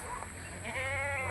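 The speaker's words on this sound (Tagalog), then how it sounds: "may kambing tayo dito isa o" A male goat bleating nearby in a rural yard, one short wavering call over faint background noise.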